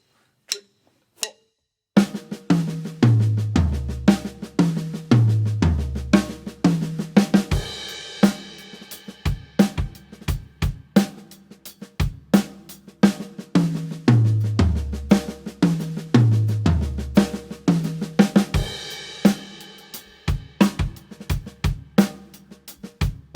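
A drum kit plays two-bar 16th-note fills in groupings of three, with busy tom and snare patterns over kick and cymbal crashes. The pattern repeats twice after a few opening hits, loud and close, with no talking.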